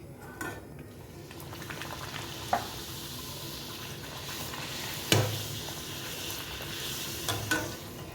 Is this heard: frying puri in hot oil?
yes